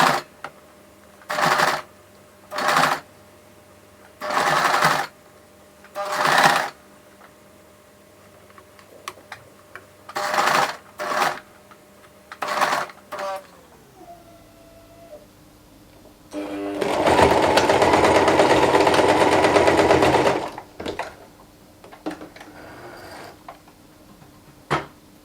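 A sewing machine stitching an old dress in short bursts of rapid whirring, paused and restarted several times, then one longer steady run of stitching, with faint handling clicks in between.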